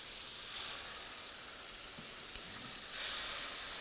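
Lingcod sizzling as it fries in a pan, a steady close hiss that swells louder in two stretches, with no one speaking.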